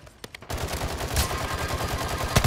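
Call of Duty gunfire: a sustained burst of rapid automatic fire begins after a few scattered shots, close and loud, rattling continuously for about two seconds with a couple of sharper heavy reports near the end.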